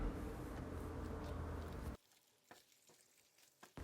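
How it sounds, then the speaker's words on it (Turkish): Börek sizzles and fries in oil in a pan, a dense steady crackle for about two seconds, then it cuts to quiet room tone with a few soft clicks and knocks. "Kızartmaya devam ediyorum."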